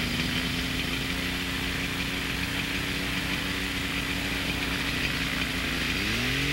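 Small ultralight aircraft engine running steadily on the ground before a test flight, a loud continuous buzzing drone with a steady pitch that shifts upward near the end as the engine revs.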